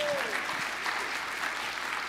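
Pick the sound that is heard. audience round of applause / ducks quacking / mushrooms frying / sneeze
audience round of applause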